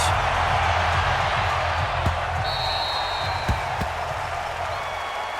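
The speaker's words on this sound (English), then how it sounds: "This crowd is ready as their guys get set to match up between the San Francisco 49ers and the Detroit Lions." Stadium crowd before a San Francisco 49ers vs Detroit Lions NFL game, a steady broad roar of cheering and murmur filling the space, with a few sharp claps or thumps cutting through.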